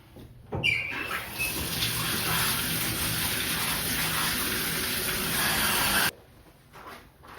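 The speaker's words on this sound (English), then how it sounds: "Thank God I know how to hand wash." Water gushes steadily from a tap as clothes are washed by hand, a loud, close, continuous rush lasting about five and a half seconds before cutting off abruptly, with no talking.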